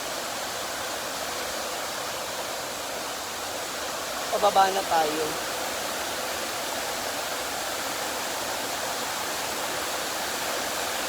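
A waterfall and rushing stream pour with strong current in a steady, loud broadband roar, while a person speaks briefly partway through.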